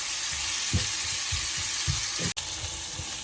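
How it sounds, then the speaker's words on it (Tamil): Onions sautéing with salt in a pan for a Sri Lankan mango mud crab curry, a constant bright sizzle with soft thumps of stirring and one sharp click, no voices. "இப்போ கொஞ்சம் வெங்காயம் நல்லா வதங்கட்டும்."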